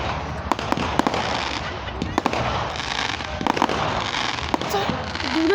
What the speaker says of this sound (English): Guys, it's fireworks.